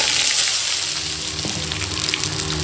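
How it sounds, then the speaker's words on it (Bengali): Black mustard seeds crackle in hot oil in a wok, a loud continuous close-up sizzle with scattered small pops. "এবার সর্ষেটা দেখো ফাটছে"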